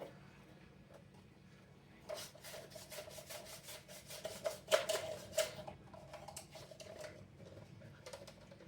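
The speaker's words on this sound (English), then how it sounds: "I just used my Pampered Chef slicer" Two onions being sliced on a Pampered Chef slicer, a quiet run of rasping, rubbing strokes that starts after a couple of seconds and grows busier, with several sharper scrapes in the middle, close by and fairly faint, with no talking.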